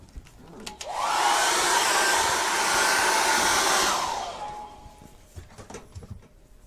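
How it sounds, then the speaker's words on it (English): A hair dryer switches on, blows with a loud steady whoosh for about three seconds, then winds down, leaving faint handling noises. "let's go at it again with the hairdryer."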